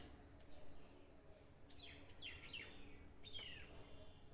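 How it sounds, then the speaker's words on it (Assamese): Birds chirp and tweet in quiet rural surroundings beside a small vegetable plot, with short bursts of bright calls spaced a second or so apart over a soft, faint background. "চৰাই কল কাকলিৰে পৰিপূৰ্ণ"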